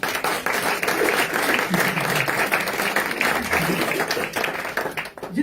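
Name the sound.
church congregation applauding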